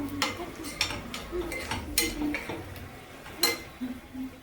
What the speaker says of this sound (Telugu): ఇట్లా ఎండుమిర్చి, వేసుకొని ఇట్లా ఫ్రై చేసేసుకొని అవి కూడా